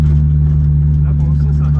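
A Peugeot 206 WRC rally car engine held at full throttle in the Moroccan desert gives a steady, loud, low droning roar with a constant pitch for the whole stretch.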